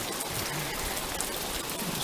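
Rain pours down in a steady, dense hiss of drops on surfaces, loud and close throughout with no talking.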